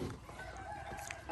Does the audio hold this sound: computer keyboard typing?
no